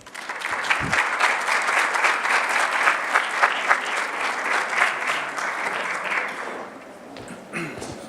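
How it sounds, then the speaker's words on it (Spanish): Audience applause at a university science, art and technology fair in Lagos, Mexico, following the introduction of a biochemistry talk; sustained steady clapping from a crowd for about seven seconds, then fading. "Démosle un fuerte aplauso, por favor."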